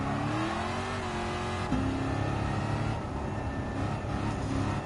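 Race car engines in Gran Turismo 7 during a Historic Sports Car Masters race, including a Shelby GT350 and a 1975 Ferrari 308 GTB, droning and revving steadily together as one car pulls alongside to overtake.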